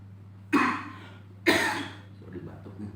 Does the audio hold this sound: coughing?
yes